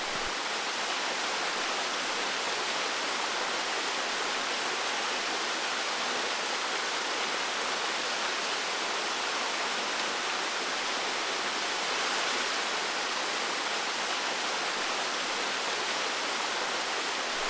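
A tiny waterfall with only a thin flow of water gives off a steady, even rush and hiss that stays constant and close throughout, with no voices over it.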